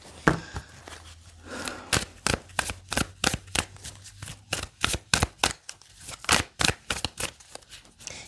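Tarot cards are shuffled in a quick series of sharp, crisp riffles and slaps, close and distinct against a quiet background.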